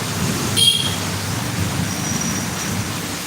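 Rain falls outdoors on a rainy day as a steady, even hiss, continuous and moderately loud, with a brief faint tonal chirp near the start.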